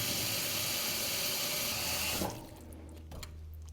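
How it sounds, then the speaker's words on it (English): Cold tap water running steadily into a soup pot for chicken noodle soup, a close, constant gushing that stops abruptly partway, leaving quiet kitchen sounds. "fill it up with enough water to cover all of the ingredients"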